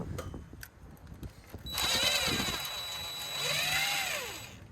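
A power tool, likely an impact gun, cracks loose bolts on an abandoned 1971 International truck, cutting in with a loud sustained whirring burst after quieter clanks and working sounds, then rising again near the end.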